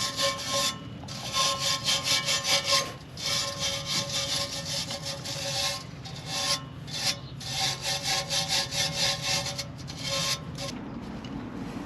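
Loose rust is scraped off the old exhaust of a Land Rover Discovery 2 (L318) in quick, rhythmic, close rasping strokes that come in bursts with brief pauses between them.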